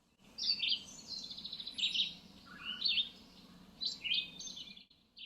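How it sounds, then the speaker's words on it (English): Several birds chirp and tweet in quick, high bursts outdoors, faint against a soft low background hum, with no talking. "see if you can hear these birds that are chirping around me"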